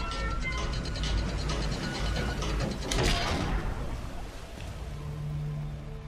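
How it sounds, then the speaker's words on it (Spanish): In the Uncharted 3 video game, a globe mechanism starts to turn with a steady grinding, ratcheting clank of gears. A heavier mechanical clunk lands midway, all fairly loud and continuous with no talking. "Comenzó a girar. Ahora podemos girar el globo."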